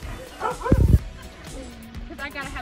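A husky gives a short burst of yipping barks, with faint whimpering and people talking nearby at a husky cafe in Svalbard.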